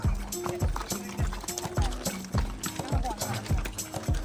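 Steady clip-clop of mule hooves walking on a hard path in Baisaran valley, Pahalgam, Kashmir, close by, with a person talking over the rhythmic steps.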